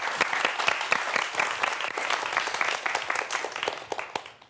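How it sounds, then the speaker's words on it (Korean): An audience applauds before a science lecture on dinosaurs and mammal evolution, a dense, even round of clapping that tapers off at the end. "박수 부탁드립니다."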